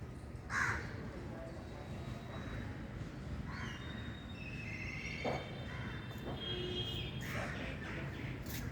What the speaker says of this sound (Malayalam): നല്ല കിളികളുടെ നല്ല ശബ്ദമാണ് ഇവിടെ നിന്നത്